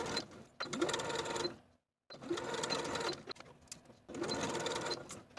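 A sewing machine stitching the seams of a boho top in three quick bursts of steady whirring, separated by short pauses, close and fairly quiet.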